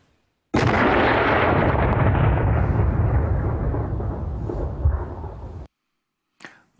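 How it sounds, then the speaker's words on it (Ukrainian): A single loud, close blast from a controlled demolition of ordnance erupts suddenly, then rumbles and slowly fades over several seconds before cutting to silence. "Вибух!"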